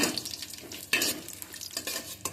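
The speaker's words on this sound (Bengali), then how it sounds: "এগুলোকেও আমি হালকা করে ভেজে নিচ্ছি" Cashews and raisins fry lightly in oil in a pan for Basanti pulao, a soft sizzle broken by several sharp scraping stirs and clinks of a spoon against the metal.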